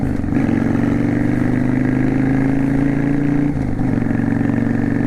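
A Yamaha V Star 650 Classic motorcycle riding through town, its engine droning loud and close with a steady low hum, a brief dip around a gear shift, then pulling on again, no speech.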